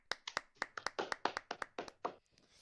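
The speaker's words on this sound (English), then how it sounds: "Clap for that." About a dozen distinct hand claps, close and crisp, from a small group or single person on a music podcast, quick and slightly uneven in rhythm before trailing off.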